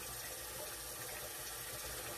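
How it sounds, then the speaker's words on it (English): Water pours steadily into a bowl for shaving, a faint continuous splashing rush at a constant level with no talking. "I'm filling up the water bowl."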